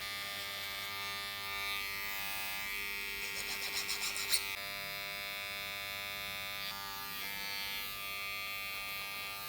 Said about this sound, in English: Freehand a little bit of this now with the trimmers.